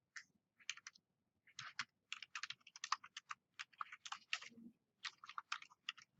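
Fingers typing on a computer keyboard, quick bursts of crisp clicky keystrokes separated by short pauses, close and clear with no talking.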